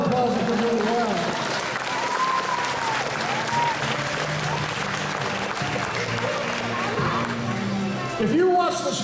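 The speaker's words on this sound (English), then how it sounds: "Let's give him a round of applause" Audience applause at a SeaWorld San Antonio bird show, broad sustained clapping from the stands with crowd murmur, while an amplified voice talks over it and whistle-like bird calls cut through now and then.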